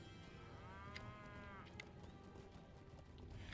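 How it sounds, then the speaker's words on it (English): A cow moos once in a video game setting, a drawn-out lowing call with a falling pitch, heard over a steady ambient bed with faint clip-clop and a few light clicks afterward. "Well, there's a perturbed cow."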